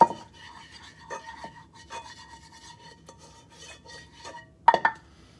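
Wooden spoon stirring sauce in a medium saucepan, with quiet repeated scraping strokes against the pan and a sharper knock near the end, no talking.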